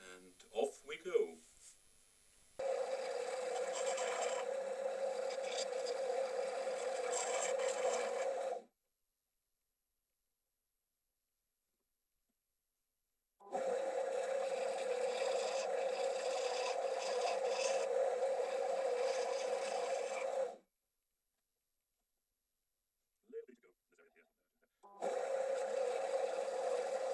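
A power sander buzzes against the edge of a twisted three-sided wooden box in three long bursts separated by silent gaps, close and steady, with a few faint knocks between passes.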